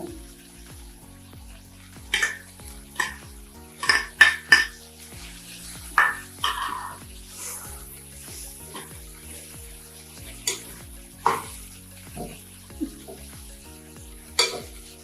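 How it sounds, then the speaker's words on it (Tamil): Grated coconut is sautéed and stirred with wilted drumstick leaves in a pan for chutney, giving scattered scraping and tapping strokes of the spoon over a soft sizzle, with steady background music throughout. "தேங்காய் போட்டு வதக்கணும்"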